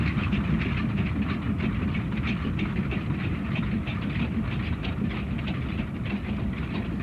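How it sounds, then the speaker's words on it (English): A 62-year-old steam locomotive hauls a train of even older wooden coal wagons across the Hexham wetlands on the Richmond Vale Railway, a steady rumbling roll with rhythmic rail clatter, heard alone and fairly close. "as the 62-year-old engine and its train of even older wooden coal wagons made its way across the Hexham wetlands"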